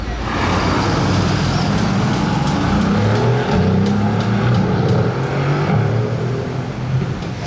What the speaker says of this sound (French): SR McLaren coupé. Magnifique.